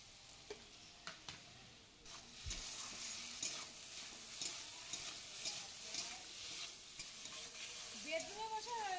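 Potatoes sautéing in oil in a pan for a spicy morla fish curry, a steady close sizzle with repeated scraping and stirring strokes throughout, no voices.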